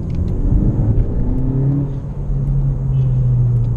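Freeway traffic rushing past nearby, a steady loud roar of cars and engines with a rising whir as a vehicle passes close, no talking.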